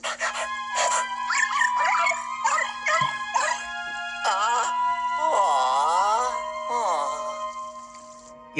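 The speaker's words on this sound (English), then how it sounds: "Where did that ghostly dog come from?" A ghostly dog in the video game Luigi's Mansion Dark Moon howls and wails in a series of rising and falling tonal cries, with sliding pitch bends, over a low steady hum.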